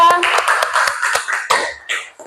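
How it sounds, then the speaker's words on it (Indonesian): A classroom group claps for a presenting student group, a short burst of scattered hand claps mixed with voices and chatter, fading out quickly. "Oke, tepuk tangan untuk kelompok 2"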